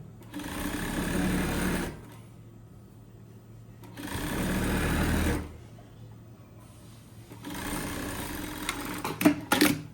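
Sewing machine runs in three bursts of a couple of seconds each while stitching the back of a tracksuit, a steady mechanical whir separated by quiet pauses, with small clicks near the end.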